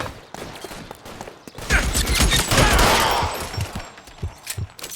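Gunfire from the video game L.A. Noire: a burst of rapid shots and clatter, loud and close, surging in the middle and then tapering off into scattered sharp hits.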